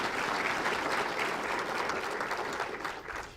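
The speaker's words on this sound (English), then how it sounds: "have a round of applause for that" Audience at a city event in Tustin claps in a steady round of applause, moderately distant, fading slightly toward the end.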